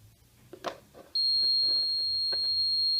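In a home automation system, after a second of faint shuffling noises, a piercing high-pitched intruder alarm buzzer starts abruptly and holds a steady, continuous tone.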